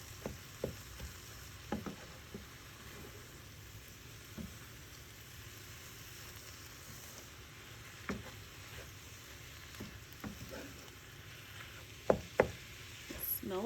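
Ground beef frying in a pan, a faint steady sizzle broken by scattered knocks and scrapes of a utensil stirring and pushing the meat, with no one talking.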